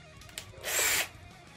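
A Tramontina power drill is bored in with a 10 mm bit, a brief buzzing whir of about half a second rising out of quiet surroundings, alone with no talk.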